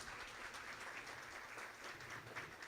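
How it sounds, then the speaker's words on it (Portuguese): A church audience claps for the doctor Marisa Cristina Bahia Vargas in a short, even round of applause, faint and steady throughout. "Uma salva de palmas, por favor"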